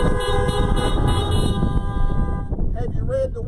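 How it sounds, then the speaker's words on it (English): Several car horns honk together in a sustained, loud toot during an outdoor drive-in Sunday church service, then cut off as a voice begins speaking. "Somebody honk amen."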